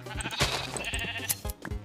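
Several sheep bleats from Minecraft, close and fairly loud, overlapping one another across a couple of seconds with other in-game sounds behind them and no speech.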